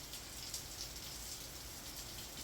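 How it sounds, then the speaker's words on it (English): Steady heavy rain pours down outdoors as a dense, continuous hiss that holds at an even level throughout, with no voices over it. "Man, that rain is coming down right now."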